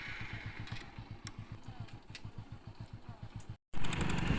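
Motorcycle ridden on an empty road, a quiet, steady rapid thumping of the engine, broken by a short dropout before louder noise returns.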